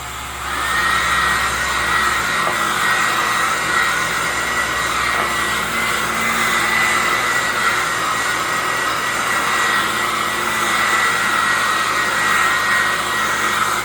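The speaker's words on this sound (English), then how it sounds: "Let's get the old hair dryer out." A hair dryer runs continuously at close range over acrylic paint, a steady loud whirring blow with a high whine, with no pauses.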